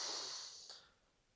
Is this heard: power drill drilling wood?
no